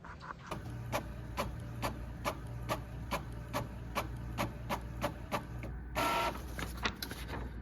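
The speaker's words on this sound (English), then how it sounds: "So first thing I'm printing today is these first day pictures." A home printer runs off a batch of first-day-of-school pictures for homeschool prep, giving a steady run of regular mechanical clicks and feed strokes over a low motor hum, close and moderately loud with no talking.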